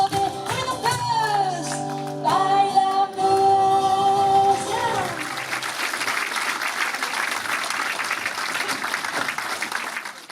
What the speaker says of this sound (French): Et c'est sur ces applaudissements que l'on termine ce bulletin